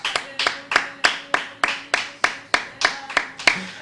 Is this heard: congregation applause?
yes